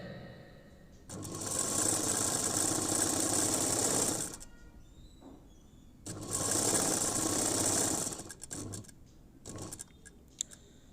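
A sewing machine stitches a blouse sleeve in two steady, close-up runs of fast mechanical whirring, each lasting about three seconds and separated by a quiet pause with a few small clicks.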